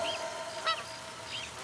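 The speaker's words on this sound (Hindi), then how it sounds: "आवाज सुनो, चिड़ियों की आवाज" Goose-like honking bird calls ring out in a jungle setting: three short, nasal honks spaced across the moment, moderately loud over a steady background hiss, with no voices.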